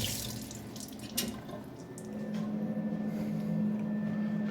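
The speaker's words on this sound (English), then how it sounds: "There's a rinse." Brussels sprouts are rinsed under running tap water, a steady close splashing stream into a sink with a brief clatter early on and the flow growing fuller toward the end.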